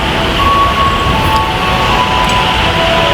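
Commuter train from Bogor pulling into Manggarai station, a loud steady rumble with a faint high whine of wheels and brakes, station noise around it.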